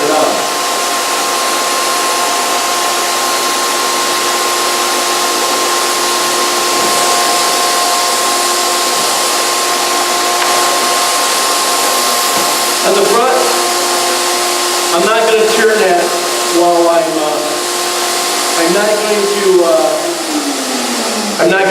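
Steady hissing spray runs throughout at a constant level, with a faint tonal hum underneath and brief rattling, shifting noises near the end.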